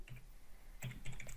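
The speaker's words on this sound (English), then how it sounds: "let's just shut up and type stuff" Typing on a computer keyboard: a short burst of clicks near the start, a pause, then a quicker cluster of keystrokes, close and fairly quiet with no talking.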